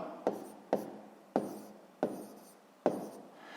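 Numbers written by hand with a pen on paper during a sixth-grade maths division exercise: five sharp, scratchy strokes spaced about half a second apart, each fading quickly, close and alone without talk.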